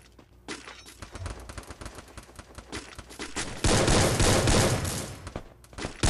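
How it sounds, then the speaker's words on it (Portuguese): Rapid bursts of gunfire in a competitive online shooter match, sharp shots rattling in quick succession before swelling into a loud, sustained volley of overlapping automatic fire. "Já tá atirando ali que nem doido"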